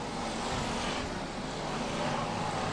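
BriSCA Formula 1 stock cars race around the Long Eaton oval in 1994, a steady, dense roar of engines from a distance with a wind-like wash over it and no distinct voices.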